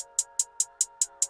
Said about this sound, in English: These are what hi-hats sound like.